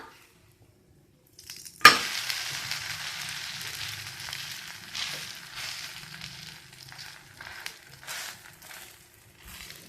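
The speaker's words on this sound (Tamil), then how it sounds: "இப்போ நம்ம அடுத்த சைடு வேகிறதுக்கு நம்ம திருப்பி போடலாம்." Pearl millet (kambu) dosa sizzling on a hot pan right after being flipped, a sharp flip sound followed by a steady, moderate crackling hiss that continues throughout, with no talking.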